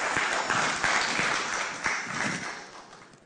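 A church congregation claps together during a Sunday morning service, a dense, steady wash of applause that fills the room and slowly tapers off toward the end.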